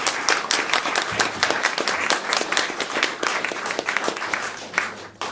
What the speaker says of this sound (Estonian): Palun väga, aplausi!